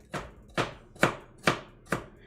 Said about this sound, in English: Rough chopping ain't gotta be perfect once again.